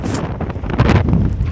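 Strong outdoor wind roars and buffets right at the microphone in loud, uneven gusts that do not let up.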